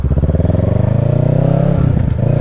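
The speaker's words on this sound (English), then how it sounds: "this bike sounds like more like a cruiser than a sport bike with the Yoshimura exhaust" A 2023 Kawasaki Ninja 650 parallel-twin engine with a Yoshimura exhaust idles and pulses nearby, giving a deep, even, rapid thumping with a slight rise in revs near the end.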